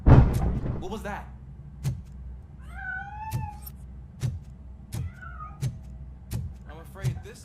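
A cat meows several times in RoboCop Rogue City, short plaintive cries spaced among sharp repeated impacts and thuds, with a louder clatter at the start.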